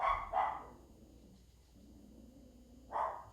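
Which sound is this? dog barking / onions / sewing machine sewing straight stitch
dog barking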